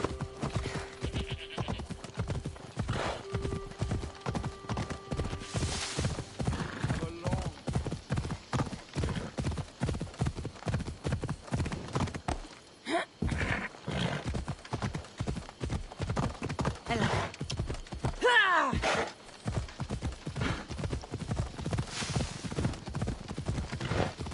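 A horse gallops in Assassin's Creed Odyssey, its rapid rhythmic hoofbeats pounding close and steady with a whinny near the start and brief pauses midway, over faint game ambience.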